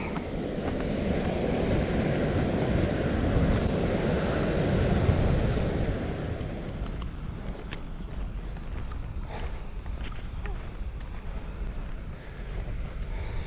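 Surf breaking and washing up onto a rocky beach, a broad steady roar for the first several seconds that eases into a lighter rushing wash, with wind buffeting the microphone throughout.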